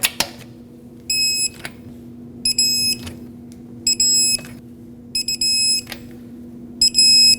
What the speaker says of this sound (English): 80 foot-pounds in a cross pattern, here we go.